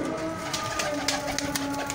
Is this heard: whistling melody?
no